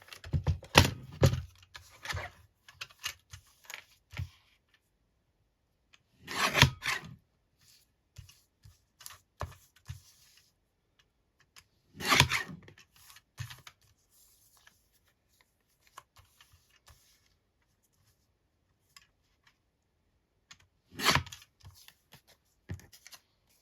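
Scissors cutting paper for stamp crafting, a few separate bursts of snipping and paper rustle spaced several seconds apart, close and fairly quiet, with small handling noises in between.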